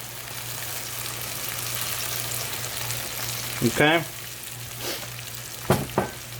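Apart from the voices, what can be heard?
ouzo poured into sizzling pan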